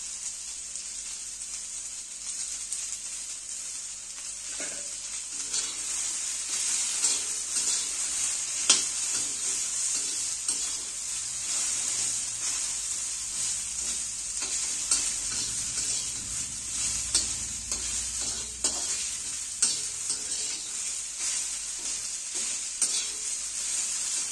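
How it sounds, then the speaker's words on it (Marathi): Okra stir-fried in a pan: a continuous bright sizzle with frequent spatula scrapes and clinks against the metal, close and steady throughout, with no voices. "भेंडी आपली एकसारखी चांगली भाजून झाली बघा."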